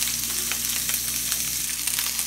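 Sliced green beans with salt sautéing over a high flame in an open pan, a loud, steady, close sizzle that carries on unbroken with no talking.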